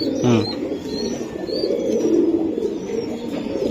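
Racing pigeons kept for sale coo steadily in a low, continuous murmur, with several birds overlapping and a few faint chirps on top and no talking.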